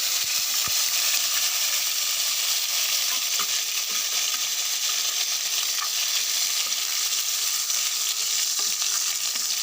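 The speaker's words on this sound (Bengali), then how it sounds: "আমি কড়াইয়ে তেল দিয়ে দিয়েছি, তেল গরম হয়ে গেছে। এখন আমি রসুন দিয়ে দিব।" Garlic sizzles in hot oil in a wok, a loud, close, continuous crackling fry with no voices over it.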